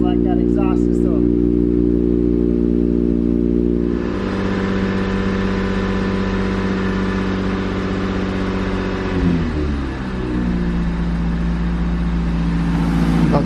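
An Infiniti Q50 engine rumbles steadily and rises in a rev partway through, a deep throaty exhaust note held close and loud.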